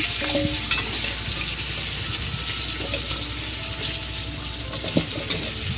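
Pointed gourd and potato fry in a pan, a steady close sizzle broken by a few scraping stirs and light clinks of the spatula.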